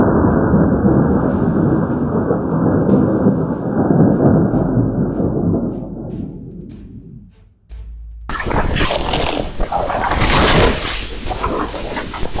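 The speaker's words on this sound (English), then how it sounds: "Spotty storms still pack lightning, gusty winds, and heavy rain." A thunderstorm with heavy rain, lightning and gusty winds: a loud, continuous roar of thunder and rain fills the first half, fades out, then a sharp burst of hissing downpour and rumbling cuts in at full strength.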